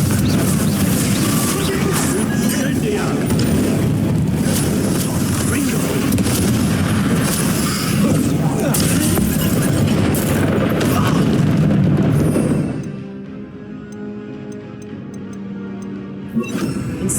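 A Confringo spell blast from Hogwarts Legacy sounds amid a loud, dense stretch of booming impacts and crackling game effects with voices mixed in, then drops abruptly to a quieter tail with faint sounds.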